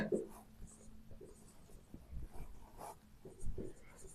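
Handwritten maths notes being written with a pen on paper, a faint, quiet scratching of irregular strokes against a low background hush.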